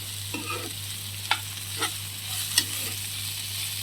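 Okra (lady finger) curry frying in a pan gives a low, steady sizzle, broken by a few brief clicks and scrapes from stirring. No voices are heard.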